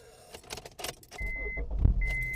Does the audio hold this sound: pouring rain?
no